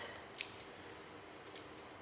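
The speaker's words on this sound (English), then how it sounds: "If you don't have herb scissors, time to get some herb scissors" Faint snipping of small herb scissors chopping herbs, a couple of quick cuts over a low steady background hiss.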